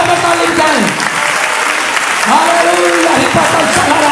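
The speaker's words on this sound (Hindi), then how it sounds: "जरा हाथों को उठाकर तालीम करें।" A church congregation claps hands in a loud, dense, continuous burst of applause lasting throughout, with voices faintly mixed in.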